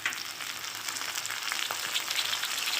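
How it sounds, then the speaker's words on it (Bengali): Chopped tomato frying with fried onions in a pan, a steady hissing sizzle at moderate volume with occasional faint stirring scrapes, close by with no voices. "তো দেখো টমেটোটা দিয়ে আমি একটু ভেজে নিয়েছি।"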